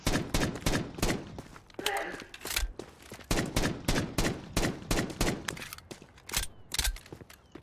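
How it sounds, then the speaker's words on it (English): Rapid bursts of video game gunfire crack repeatedly, loud and dense, with shots coming in quick clusters and almost no pause between them. "You hear, you heard their gunshots, right?"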